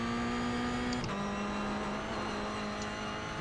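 A Toyota GR Cup race car held flat out at VIR in iRacing emits a steady, buzzing engine whine at full throttle, the pitch dipping briefly once before holding again.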